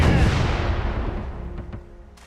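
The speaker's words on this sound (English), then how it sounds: "See if we can fire a few more cannons, give ourselves a better chance." A single heavy cannon blast from a sailing ship in the video game Furious Seas, a loud booming report that rolls off and fades over about two seconds, with faint clicks near the end.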